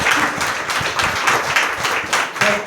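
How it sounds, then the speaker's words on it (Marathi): A gathered congregation claps for a visiting sister, a loud, close burst of many hands in steady applause that continues throughout, with a faint voice at the end. "त्यांच्यासाठी टाळ्या वाजूया."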